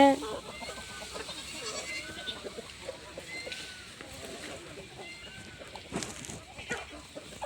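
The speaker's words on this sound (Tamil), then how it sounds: "ஆட்டுக்கெலாம் ஸ்பெஷலாக பில்லு பிடிங்கிட்டு வந்து போட்டுருவோம் பாருங்கள் எவ்வளோ வேகமாக ஓடி வராங்கன்னு" Goats running in to be fed freshly pulled grass on a farm, with bleats and scuffling movement over a steady background murmur of the herd, some sounds sharper and closer than others.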